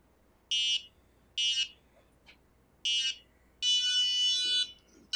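A robotics kit's motion-triggered alarm gives out shrill electronic beeps: three short bursts, then one longer sustained tone, loud and close in an otherwise quiet room.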